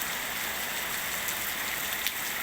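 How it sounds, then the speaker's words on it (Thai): Steady rain pours down on a garden outdoors with a constant hiss, dense and even throughout, with no voices. "วันนี้ฝนตกลินค่ะ"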